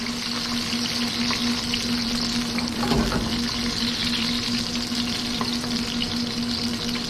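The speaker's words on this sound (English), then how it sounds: "Just going to dump them in and kind of stir fry them over low temperature." Eggplant pieces stir-frying in oil over low heat, a steady close sizzle throughout with a brief burst of louder crackle as the pieces are stirred midway, no talking.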